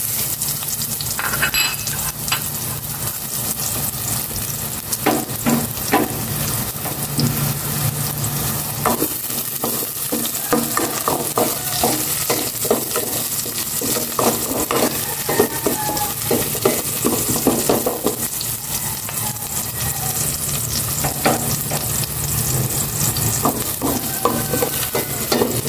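Onions sizzle steadily in a hot pan while a utensil scrapes and stirs through them in frequent short strokes, close and continuous with no voices.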